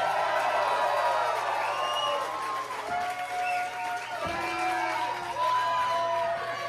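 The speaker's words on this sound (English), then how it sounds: "Give them a big round of applause," An indie wrestling crowd applauds and cheers after an opening match, a dense wash of clapping and scattered whoops, with voices mixed in throughout.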